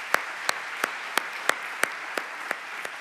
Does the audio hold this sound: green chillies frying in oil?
no